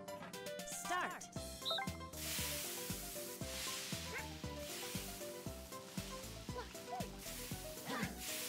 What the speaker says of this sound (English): Sizzling steaks, a free-for-all.